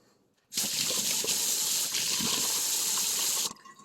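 Water gushes steadily from a tap as airsoft gun parts are rinsed under it, a loud continuous rush lasting about three seconds before stopping abruptly, with quiet room sound before and after.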